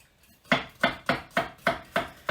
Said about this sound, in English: I'm just going to chop up this garlic